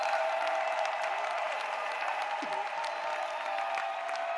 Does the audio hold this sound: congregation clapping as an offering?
yes